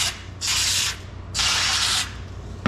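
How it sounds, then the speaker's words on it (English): Brake cleaner sprayed onto Brembo brake pad shims from a 2014 Lexus GS 350 in two sustained hissing bursts, each about half a second long, close and loud, followed by a short final spritz. "brake clean."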